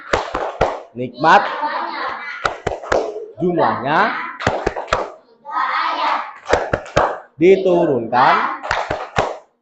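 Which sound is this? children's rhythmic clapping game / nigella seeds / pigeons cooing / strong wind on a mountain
children's rhythmic clapping game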